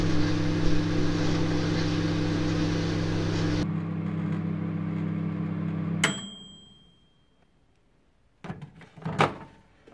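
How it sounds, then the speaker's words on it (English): A microwave oven runs with a steady loud hum while heating rabbit skin glue, then stops abruptly, followed by a beep, a quieter pause and some handling clatter near the end. "So I'm just going to put this in the microwave"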